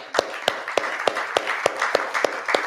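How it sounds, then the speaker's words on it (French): Applause at an innovation event in Sophia Antipolis: a small audience clapping in a steady, fairly close rhythm of sharp claps at regular intervals, with nobody speaking over it. "Oui, on applaudit."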